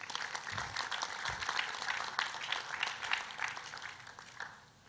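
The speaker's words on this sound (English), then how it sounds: "Give her a round of applause." Audience applause at a construction day event in Ghana, a sustained mass of clapping with a few louder bursts that fades out at the end.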